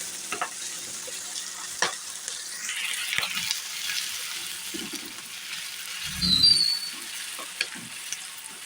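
Chillies, sliced onions and curry leaves fry quietly in a pan with a soft, continuous sizzle, broken by occasional scrapes and taps of a spoon being stirred through.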